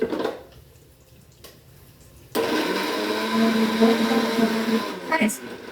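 After a quiet stretch with a brief voice, a mixer grinder blending apples for juice whirs loudly for about three seconds, then cuts off.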